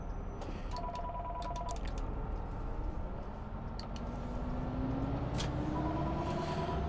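Telephone ringing in the bus simulator game OMSI 2, short repeated electronic ring bursts heard over constant engine and road noise inside a bus, with scattered clicks and ticks.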